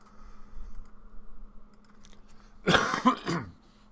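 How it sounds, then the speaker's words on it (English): A man clears his throat and coughs in a short, harsh burst close to the microphone, following a few quiet seconds of low background hum and faint clicks. "Clearing my throat here."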